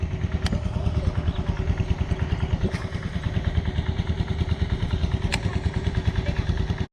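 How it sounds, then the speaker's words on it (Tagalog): A small engine drives a water pump beside a snakehead fishing spot, chugging in a fast, steady rhythm that stays loud and close the whole time, with no voices. "pasensya na sa ingay ng bomba ha."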